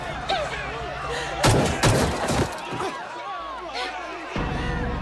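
Loud gunfire bursts in a tense French TV drama standoff, a couple of sharp cracks close together amid shouting voices and dramatic background sound.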